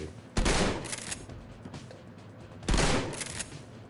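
Two loud bursts of gunfire in Shadowrun Returns, each a sharp blast followed by a short rattling tail, separated by a quieter stretch.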